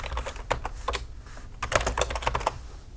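Typing on a computer keyboard: a steady run of quick, close key clicks with short bursts and brief pauses, no voices present.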